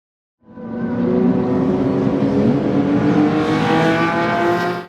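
Australian TransAm race cars lap the circuit in Friday afternoon practice, a loud engine roar that rises in and holds steady for several seconds with climbing pitch, heard alone without commentary.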